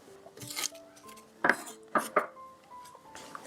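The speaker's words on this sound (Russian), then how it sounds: "Остальную часть разрезаю полосочками." Knife slicing green onion into strips on a cutting board, several crisp chops and taps at uneven intervals, close by, over faint tonal background sound.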